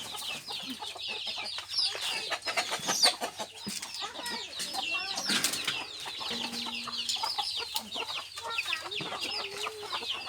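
Backyard chickens cluck steadily while being fed, a dense overlapping chorus of close clucks and calls that continues throughout.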